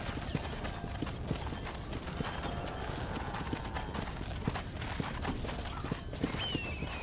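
Steady hoof clip-clops from a horse on hard ground in Red Dead Redemption, a quick continuous rhythm with some background game ambience and an occasional whinny-like tone.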